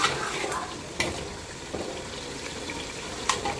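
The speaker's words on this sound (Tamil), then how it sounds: "சிக்கன் சிக்கன் வந்துட்டு ஒரு 5 நிமிஷம் நல்லா வதங்கட்டும்." Chicken pieces sauté in a pan for chicken biryani, giving a soft continuous sizzle with a few sharp spoon knocks and scrapes from stirring at intervals.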